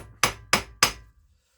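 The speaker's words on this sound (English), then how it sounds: "soft face hammer, and in they go, they just go in nice and square" A soft face hammer taps tubes into a Classic Mini SPI inlet manifold: three crisp, evenly spaced knocks, close and isolated, each fading quickly into quiet.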